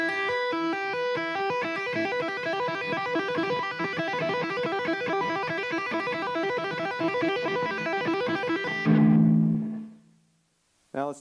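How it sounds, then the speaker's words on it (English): A rapid, continuous stream of tapped and pulled-off electric guitar notes in triplet groupings runs evenly for about nine seconds, then stops, with a brief low thump at the end. "If we build up speed doing that, it sounds like this."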